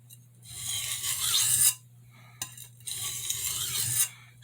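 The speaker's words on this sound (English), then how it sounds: "setting a burr on this knife" A santoku knife drawn across a sharpening stone to raise a burr, two steady gritty scraping strokes, close and moderately loud, separated by a brief pause.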